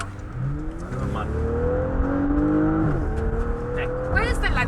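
Porsche Panamera Sport Turismo 4 E-Hybrid pulling hard from inside the cabin, engine tone climbing steadily then dipping briefly before rising again, loud and continuous with a voice talking over it.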